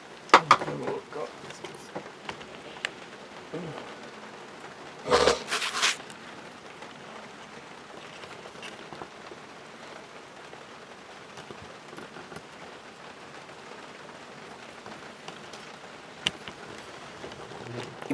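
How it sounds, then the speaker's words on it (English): Rain falls outdoors by a back step as a faint, steady patter with scattered drips and a few louder knocks, including a brief loud burst early on. "And it's raining again."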